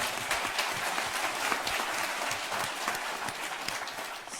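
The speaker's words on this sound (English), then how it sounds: "So round of applause." Audience at a community sector summit applauding a panel, a steady wash of many hands clapping throughout, moderately distant and even, with no talk over it.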